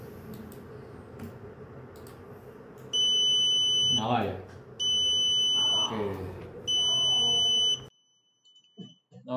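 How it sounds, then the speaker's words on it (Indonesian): A buzzer on an IIoT trainer demo box sounds three long, steady electronic tones with short gaps between them, loud and close, as someone speaks briefly over the start. "Kemudian untuk buzzer,"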